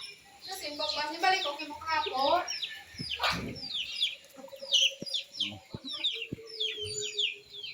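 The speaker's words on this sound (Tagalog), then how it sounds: "Pagkain sa manok pag umaga." Domestic chickens cluck and chatter busily nearby during morning feeding, a rooster-like call rising among them, with scattered knocks and a voice speaking at times.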